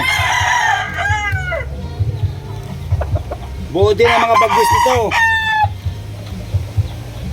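A gamecock, a sandy hatch fighting rooster with smooth, clean plumage, crows twice loudly and close by, with clucking between the crows. Someone talks over it in a steady low murmur.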